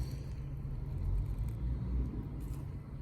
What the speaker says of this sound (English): why when I start these videos do the loudest trucks go by outside?